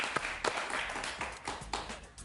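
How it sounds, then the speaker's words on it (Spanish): An audience applauds Leopoldo López during an interview: a short burst of scattered claps and taps, fairly close, with a faint voice underneath. "Un aplauso para Leopoldo López, por favor."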